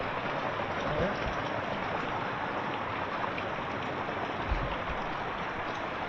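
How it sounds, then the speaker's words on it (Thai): Steady rain falls outdoors in a forest, a dense continuous hiss with no breaks and no clear voices. "โอ้ฝนตกเห็นเลยเนาะ"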